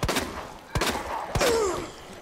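Three sharp gunshots ring out from a firearm in the Resident Evil 2 Remake video game, evenly spaced about 0.6 seconds apart, loud and close, the last followed by a short rising game tone.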